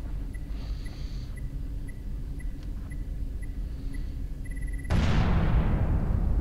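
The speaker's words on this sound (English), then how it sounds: "I want to see the explosion." High explosive detonating in Lifeless Planet: quiet ambience with faint electronic beeps before a sudden loud blast that keeps roaring and rumbling.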